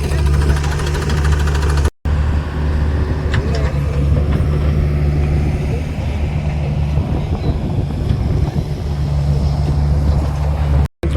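A tractor engine running at a steady, loud rumble while it is loaded with salt, the drone continuous and close with wind buffeting and two sharp cutouts in the sound.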